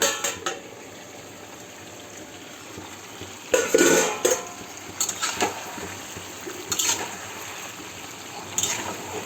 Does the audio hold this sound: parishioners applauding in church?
no